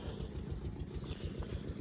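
A farm water-pump engine runs steadily with a low, chugging throb and rattling clatter, close and continuous, with no voices.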